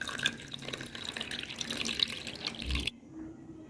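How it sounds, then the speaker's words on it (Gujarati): Chilled water is poured from above into glasses of fennel and basil seed sharbat, a close, steady splashing stream that stops abruptly near the end, leaving near silence. "ચીલ્ડ પાણી, ઠંડુ પાણી ઉમેરીએ છીએ."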